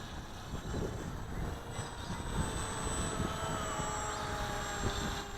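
An RC model airplane flies at a little under half throttle, giving a steady, even buzzing drone that carries on without a break and sounds fairly distant.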